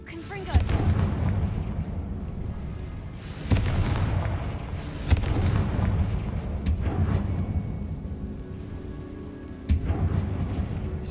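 Booming Confringo spell explosions in the Hogwarts Legacy video game, with several heavy blasts spaced a second or more apart over a rumbling bed, loud and close.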